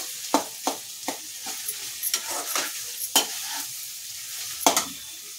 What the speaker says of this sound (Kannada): ಈ ರೀತಿ ತರಕಾರಿ ಎಲ್ಲ ಎಣ್ಣೆಯಲ್ಲಿ ಚೆನ್ನಾಗಿ ಫ್ರೈ ಮಾಡ್ಕೊಳ್ಬೇಕು